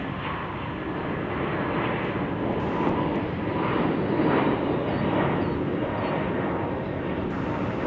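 Airliner engines roaring at Salt Lake City airport, a steady loud broadband rumble that holds throughout with slight swells, close by and with no talk over it.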